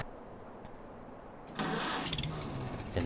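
A farm tractor engine starts up in Farming Simulator 22, cranking briefly before settling into a steady, moderately loud mid-pitched idle with no talk over it.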